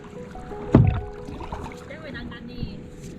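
A kayak paddle strikes and pulls through water with one clear splash, then soft gurgling and lapping. Light wind noise is present, and a voice talks briefly in the background.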